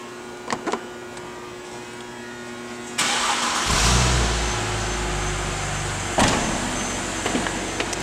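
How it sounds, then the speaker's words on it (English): A 2010 Mercedes-Benz ML350 4Matic cranks briefly and starts, a sharp catch followed by a close, steady idle that rises slightly before settling, with a few faint clicks before ignition. "We turn the engine on so you can hear how it sounds"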